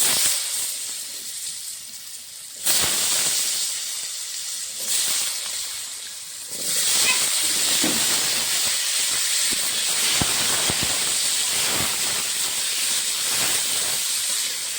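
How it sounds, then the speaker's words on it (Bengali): Potatoes fry in mustard oil left over from frying fish, giving a loud, close sizzling hiss that surges as they go into the pan and then holds steady with small crackles. "আলুটা ভেজে নেব।"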